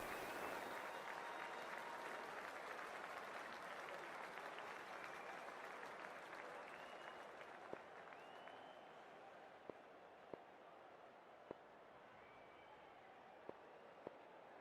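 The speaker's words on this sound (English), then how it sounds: "already the crowd is up and about" Stadium crowd in the video game Cricket 24 roaring and applauding continuously before the first ball of a one-day international, a steady wash of cheering with a few sharp clicks near the end.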